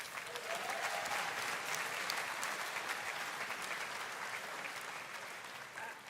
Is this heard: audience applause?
yes